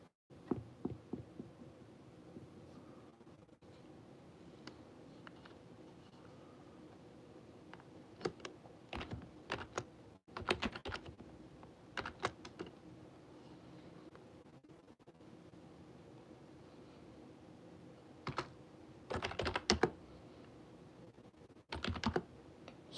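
Typing on a computer keyboard, with bursts of quick key clicks separated by quiet pauses and a faint background hum, close to the microphone and free of talk.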